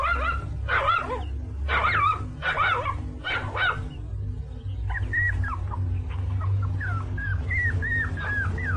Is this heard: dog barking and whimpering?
yes